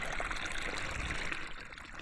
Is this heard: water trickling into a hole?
yes